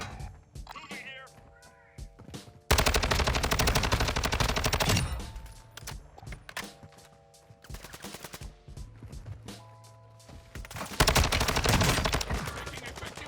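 Sustained automatic gunfire in Warzone 2, two long loud bursts plus scattered shorter shots, with game radio chatter and a player talking in between.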